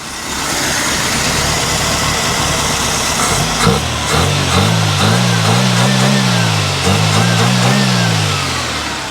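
A Nissan Pulsar engine runs after a transmission swap, starting as a steady loud drone, then dropping to a rougher idle with wavering pulses and a couple of small revs, close and continuous throughout.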